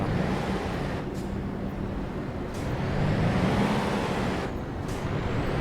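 Air hiss from a Volvo truck in Euro Truck Simulator 2, a steady rumbling engine drone with brief bursts of released air at intervals, moderately loud and with no talk.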